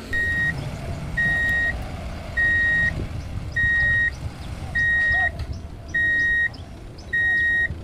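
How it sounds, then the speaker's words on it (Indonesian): A red toy dump truck sounds its reversing alarm: seven evenly spaced, clear electronic beeps at a steady rhythm, close and loud, over a low background hum. "Mobil dump truck."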